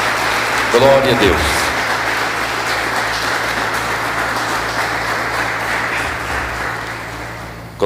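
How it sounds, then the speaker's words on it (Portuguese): A church congregation claps in steady applause that runs throughout, with one voice speaking briefly over it near the start. "Vamos dar uma salva de palmas para Jesus."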